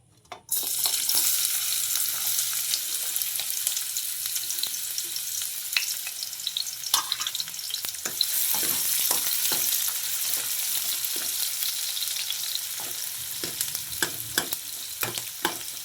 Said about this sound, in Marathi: कांदा मस्त भाजला आहे